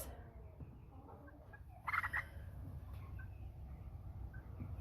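Five-and-a-half-week-old American Bresse chicks call faintly from a crate during sorting, with a short, slightly louder burst of clucking partway through over a low, steady background rumble.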